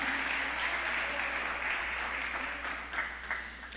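Church congregation applause during a sermon, sustained even clapping from the crowd over a low hum, steady throughout and easing slightly toward the end, with no one speaking.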